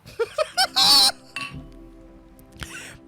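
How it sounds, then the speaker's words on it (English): Glasses are clacked together in a few quick, bright clinks followed by a longer ringing chime, close and loud, with faint room noise afterward. "I just clacked my glass together."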